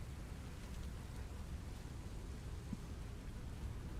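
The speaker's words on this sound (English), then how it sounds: "is it raining or some shit?" Rain falling in the Satisfactory video game, a steady quiet hiss with a low rumbling wash underneath that stays even throughout, with no voices.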